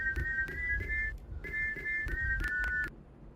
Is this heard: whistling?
yes